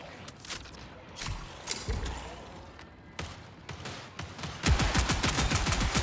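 Rapid video-game gunfire, bullets booming through a bass speaker, with scattered single shots and heavy thumps that break into a dense, fast burst of automatic fire near the end, loud and close.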